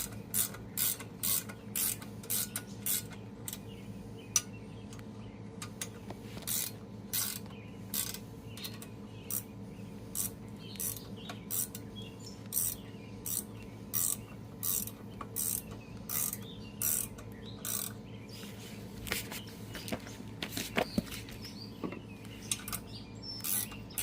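Ratchet snugging bolts on the wide front of a 1958 Farmall 450 diesel tractor clicks in repeated quick bursts, faint against a steady low hum, with birds chirping outdoors.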